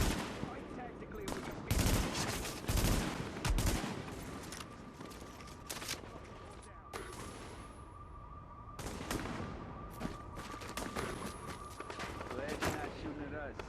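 Gunfire in the video game Tom Clancy's The Division: repeated bursts of rapid automatic shots and sharp cracks over a steady background ambience, some bursts louder and nearer, with a voice talking.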